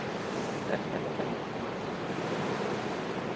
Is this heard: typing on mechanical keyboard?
no